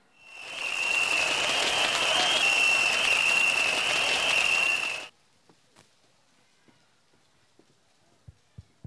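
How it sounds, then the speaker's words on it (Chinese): An audience at a 2023 village Spring Festival Teochew opera gala in Tangpu breaks into loud, sustained applause welcoming performers of a Chaoshan comedy skit, then it cuts off sharply to near silence with a few faint clicks and knocks. "掌声有请。"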